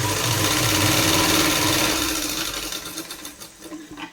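Sewing machine running a steady stitch along a slanted kurti seam, loud and continuous at first, then slowing and trailing off near the end.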